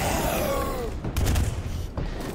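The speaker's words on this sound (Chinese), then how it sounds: "所有人注意，拉开距离，准备火力压制。" Soldiers lay down suppressive gunfire in an animated action scene, a dense burst of overlapping shots and booms that swells midway, with a whistling tone sliding down early on.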